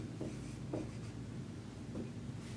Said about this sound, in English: Last thing that you need to write right here.